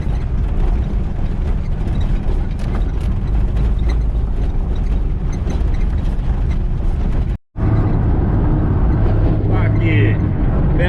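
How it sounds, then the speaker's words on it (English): Loud, constant rumble inside a Kenworth truck cab with no interior trim or sound deadening, a steady differential whine running under the road and drivetrain noise throughout, broken by one brief dropout near the end. "Noisy as fuck because there's no interior or sound deadening. Bit of a whine going on from the diff."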